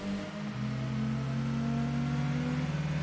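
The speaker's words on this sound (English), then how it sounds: "I think this is the lamest V8 engine I've ever heard in a video game." Mercedes AMG V8 engine in Gran Turismo 2, a steady synthetic drone with a low humming tone that shifts pitch slightly as it holds revs, loud and alone without any talk.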